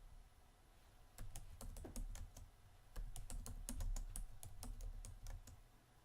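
Typing on a computer keyboard while working in Photoshop Elements, a quiet, close run of rapid key taps in uneven bursts with no talking.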